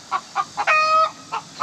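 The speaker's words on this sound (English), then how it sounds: "These chickens don't shut up, I'll tell you that much." A hen in a backyard flock clucks close to the listener, giving several short, sharp clucks with one longer drawn-out squawk in the middle.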